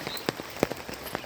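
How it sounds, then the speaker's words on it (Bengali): Rain falls on a quiet village road near a pond, with a few sharp drop impacts over a soft, faint steady patter. "বৃষ্টি"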